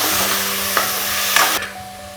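Tomatoes with onion and ginger-garlic paste sautéing in a pan, a steady low sizzle with a few sharp scraping stirs of a spoon, close and alone with no voices.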